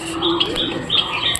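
Pigeons sit near a nest with an egg, giving a brief soft call with a short chirp close by.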